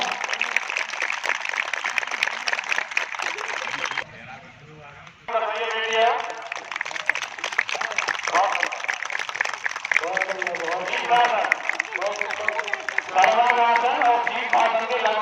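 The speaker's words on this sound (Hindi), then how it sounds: "आरती शर्मा जी के द्वारा बहुत ही अच्छा आसन करते हुए जोरदार तालियां।" At an International Yoga Day gathering in Mathura, an audience claps for a yoga asana performance; bursts of applause sound first, then continue beneath someone speaking over a loudspeaker.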